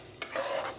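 Tomatoes are stirred and sautéed in a pan until soft for a white pea curry. A brief scrape of the spoon sets off a short burst of close sizzling.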